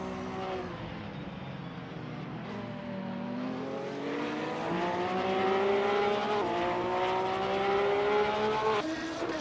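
Several GT3 race cars, including a Porsche 911 GT3R and a Lamborghini Huracan GT3, roar around Daytona in a racing video game. Engines rev and shift pitch steadily over the whole stretch, loud and continuous, with occasional tire squeal.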